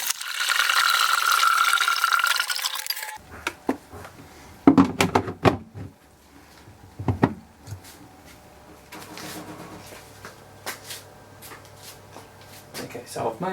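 Cold water pours into a homebrew beer fermenter for a Coopers recipe-pack crisp mid-strength brew, a loud steady rushing gush for about three seconds, followed by clunks, rattles and handling noises.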